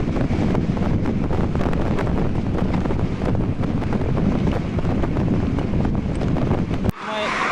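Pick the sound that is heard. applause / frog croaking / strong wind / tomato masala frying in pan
strong wind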